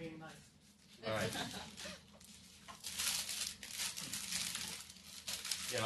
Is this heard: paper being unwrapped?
yes